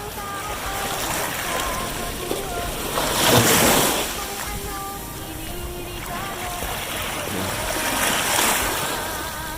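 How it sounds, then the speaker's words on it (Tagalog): Heavy ocean surf crashing in two big surges in bad weather, with strong wind rushing over the water and voices talking intermittently underneath. "ang lakas ng alon ngayon"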